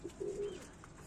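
Soft, close pigeon coos from a pigeon loft where birds are nesting on eggs, a short low murmur that sits under a faint room hum.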